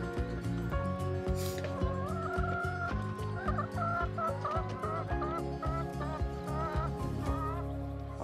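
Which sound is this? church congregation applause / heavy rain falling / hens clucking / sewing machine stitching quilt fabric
hens clucking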